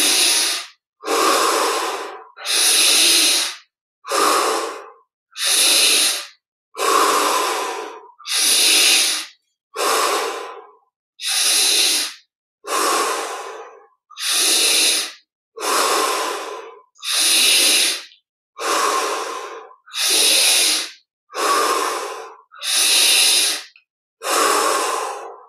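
Deep breathing during a guided breathing exercise in a meditation practice session, about twenty long, loud, close breaths, each a rushing airy hiss of a second or so, evenly spaced by short silent pauses.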